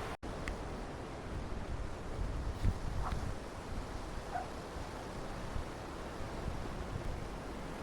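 Rough sea waves surge around the storm-damaged Middleton Pier at Hartlepool, a steady broad roar of surf and wind with a few faint splashes, heard from a distance.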